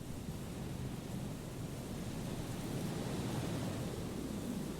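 Static white noise hisses steadily on a phone call in the game Disco Elysium, a faint, even, unbroken rush with no voice coming through.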